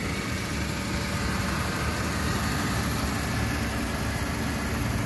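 A 2010 Mercedes-Benz C200 Kompressor Avantgarde idling, a steady low engine hum with a constant broadband whir, heard up close and without talk.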